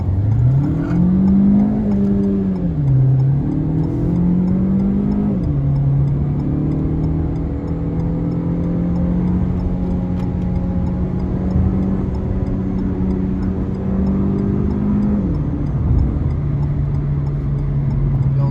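Renault Megane 4 with a 1.3 TCe 140 hp petrol engine and 7-speed EDC automatic climbing a ramp, its engine drone steady and close with pitch rising and dipping through gear changes, no talk over it.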